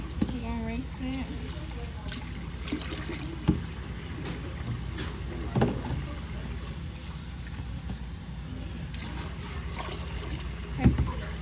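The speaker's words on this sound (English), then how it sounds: "We're going to rinse it." Water sloshes and trickles in a basin being rinsed, with splashy knocks and occasional louder bumps, close by, while a person speaks at the start.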